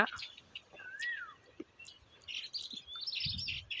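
Baya weaver birds chirp at a woven nest, giving short high tweets and a brief whistled trill that come and go against quiet outdoor background with soft rustles.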